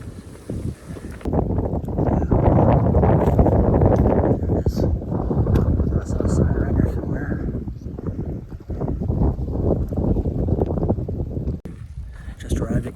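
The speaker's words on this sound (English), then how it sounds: "It's nice and windy up here." Strong wind gusting across an exposed mountain summit on the Appalachian Trail, a loud rumbling roar buffeting the microphone and rising and falling, with a hiker talking over it.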